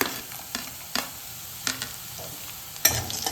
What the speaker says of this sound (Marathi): तर आपण टाकतोय अत्याशा शेंगदाणे टाकतोय